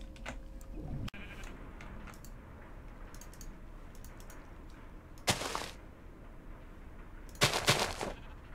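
Sheep in the modded Minecraft pack FTB Resurrection let out two short, loud bleats a couple of seconds apart over a steady low game background with faint clicks.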